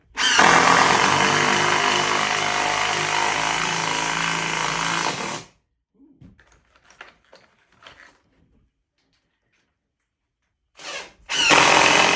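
A power drill drives screws into a wooden picnic table, one long loud continuous whir that stops, then faint handling clicks and a brief restart at the end.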